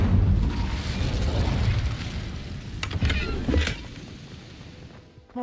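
A loud, low rumbling fire-spell blast in Hogwarts Legacy, a sustained roaring whoosh with a few crackling bursts near the middle that fades toward the end.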